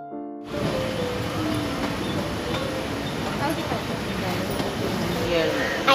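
Steady rumbling rattle of a train rolling along the tracks in Kerala, continuous and fairly loud throughout, with voices murmuring faintly in the background.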